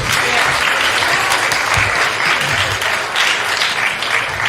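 Audience at a Friday evening Shabbat service applauding a second grade teacher, a steady, dense wash of clapping that holds at full strength for the whole stretch.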